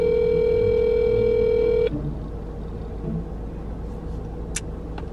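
A telephone tone sounds steadily through the handset during a prank call to a store, then cuts off, leaving low rumbling background noise and a few faint clicks.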